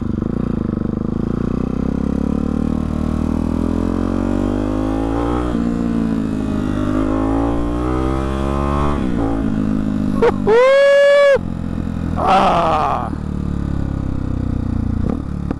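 A Hyper 698 S1 motorcycle with an aftermarket exhaust revs up and down nearby, loud and rough, with crackling pops and a brief whining pitch sweep between rising and falling engine notes.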